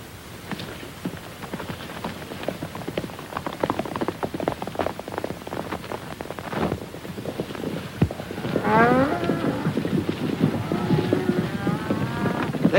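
Cattle on the range in a 1939 Western give several low moos late on, rising over a busy, rumbling background of hooves and rain-like noise.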